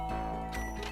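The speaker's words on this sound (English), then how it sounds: "I guess I should press the doorbell." A doorbell chimes in a comedic voice-acting skit, a short bright ringing tone with sustained overtones lasting about a second, heard alone.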